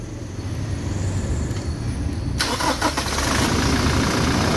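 A 1.2 GD diesel engine cranks and catches about halfway through, then settles into a steady rumbling idle close by.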